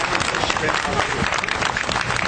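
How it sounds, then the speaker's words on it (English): A crowd applauding steadily, a dense wash of clapping throughout the short stretch. "So can we have a round of applause for Kenyetta?"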